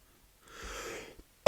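A single cough from a man during a weekend sports review show, short and muffled, followed by a sharp loud burst at the end; no talking.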